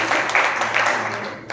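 Congregation clapping during a Sunday church sermon, a short dense burst of applause from a crowd that fades out within a second or two.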